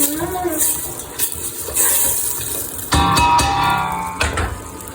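Water poured into a pan while making Kayseri yağlaması, a pouring and splashing that surges in two bursts over steady kitchen background, with no talk.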